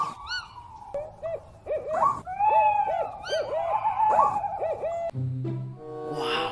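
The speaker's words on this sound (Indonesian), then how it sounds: "seram sekali ya teman-teman bunyi burung hantunya" Electronic owl hooting from a toy surprise box shaped like an owl character, a series of warbling, synthetic hoots and calls, close and fairly loud, ending in a short buzzy tone.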